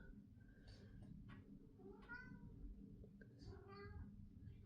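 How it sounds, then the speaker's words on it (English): A pet cat meows several times, its harmonic cries rising over a steady low rumble of room noise, with a faint voice in the background. "My cat."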